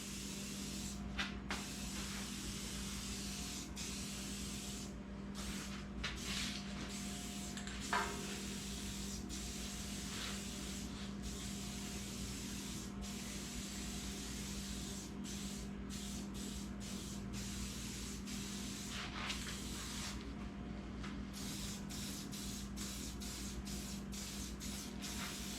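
Paint finish being sprayed onto a welding table, a steady continuous hiss holding evenly for the whole stretch, with brief breaks and small clicks as the spray stops and restarts.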